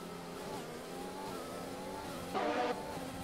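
Race cars accelerate at a green flag restart in a Brazilian Grand Prix racing game, engines droning and whining at a distance, then swelling briefly louder as cars rev past.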